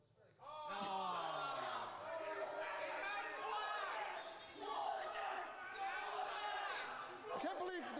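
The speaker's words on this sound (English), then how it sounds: "People are just screaming in the background." Excited group voices shout and yell over one another in a steady, loud background din, with a brief lull near the middle before the clamor resumes.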